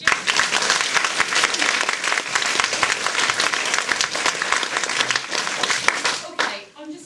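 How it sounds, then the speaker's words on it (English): An audience gives a round of applause for the pole dancer Jess at a Women's Institute event, dense enthusiastic clapping with crowd noise throughout that tails off abruptly near the end. "Big round of applause for Jess."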